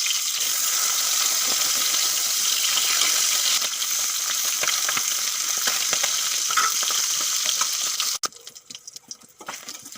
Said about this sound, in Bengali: এই মাছগুলো ভাজা হয়ে গেছে এখন তুলে নেব